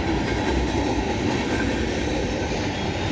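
Freight train wheels rolling past close by, a loud continuous rumble with rhythmic clickety-clack and faint metallic squeal, no voices; a mixed manifest freight train.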